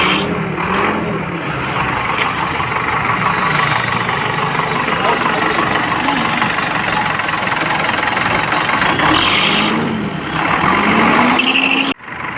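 A GHMC contractor's JCB vehicle engine runs at idle, a steady low mechanical drone throughout with faint background voices, briefly dipping near the end.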